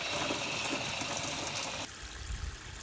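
Water from an RV Oxygenics push-button shower head keeps dribbling and hissing after shut-off, a steady close spray-like wash that drops to a lower, softer trickle partway through.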